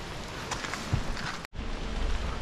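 Steady rain hisses across the whole clip in Borrowdale, a dense wash of falling drops with a brief cut partway through.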